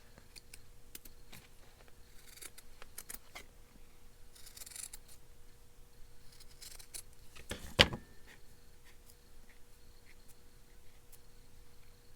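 Scissors trim paper for an ephemera booklet with faint, scattered snips and small clicks in a quiet room, plus one sharper, louder cut near the end.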